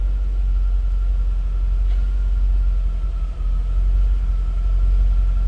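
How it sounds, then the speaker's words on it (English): Stock 1987 Chevrolet Corvette C4 convertible engine idling, a loud, steady low rumble with an even drone and one brief dip, heard up close with no talking. "Sounds like a stock C4 from '87."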